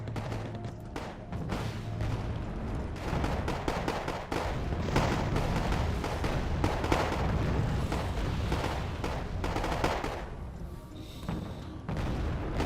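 Rocket artillery fires on tanks in Wargame Airland Battle, a dense, continuous barrage of booms and crackling impacts rumbling steadily throughout.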